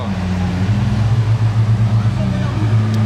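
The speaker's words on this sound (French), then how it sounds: "Bentley qui s'en va" A Bentley pulls away on Place du Casino in Monaco, its engine a low steady hum with slight rises as it moves off, heard close under someone talking.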